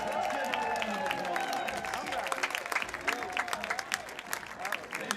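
Crowd at a Palm Springs Power baseball game claps for contest winners, scattered handclaps building under a voice over the stadium speakers and growing louder toward the end.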